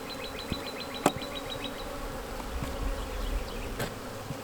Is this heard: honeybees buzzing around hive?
yes